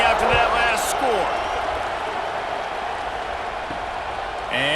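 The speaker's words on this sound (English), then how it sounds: "this crowd is buzzing after that last score" Football stadium crowd buzzing after a score in a tied fourth-quarter game, a loud, steady wash of distant cheering and chatter with a few sharp shouts and thumps near the start.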